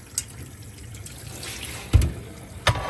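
Tap water runs steadily over root vegetables held in a pot while they are rinsed for a Caribbean root vegetable soup, with a soft, even wash broken by a few sharp knocks and splashes.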